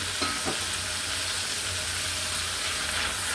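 Spice paste frying in a pan is stirred, giving a loud, dense, continuous sizzle with a few scraping strokes early on, close up and steady throughout with no talking.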